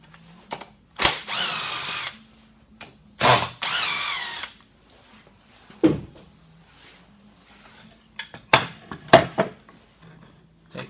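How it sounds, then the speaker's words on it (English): A power driver unscrews screws from the bar mount of a T-REX EZ Slotter chainsaw attachment used for post and beam work. Several short, close whirring bursts are separated by quiet pauses and small clicks of handling. "We're going to unscrew the screws on the bottom that are marked with the black X."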